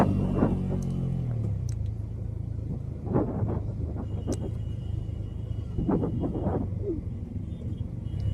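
A car engine braking down a steep hairpin mountain road between Kurseong and Pelling in North Bengal, a steady low engine rumble throughout with brief rising whines, heard from inside the car, no talking.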